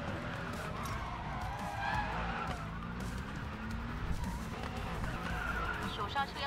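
A racing video game car drifting through a corner: continuous tire squeal and skidding over a droning engine, steady and loud across the whole stretch.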